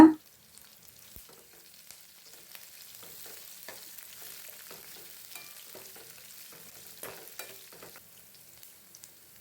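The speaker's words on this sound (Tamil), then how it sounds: "இப்போ எல்லாத்தையும் நல்லா வதக்கி விட்டுக்கலாங்க" Tomatoes and curry leaves sauté in a pan for a semiya upma, giving a faint, continuous sizzle broken by light stirring taps.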